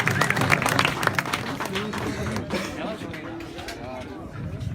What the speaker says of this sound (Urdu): میں اب جس عبدالخالق صاحب کو دعوت دیتا ہوں, آپ تالیوں کے ساتھ استقبال کریے گا